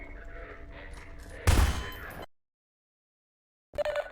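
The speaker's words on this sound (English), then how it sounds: "So they still shoot at you when you're not looking" Enemy soldiers fire at the player in Half-Life 2, a loud burst of gunfire with metallic clanging after a stretch of quieter combat noise, then sudden silence before another short burst returns.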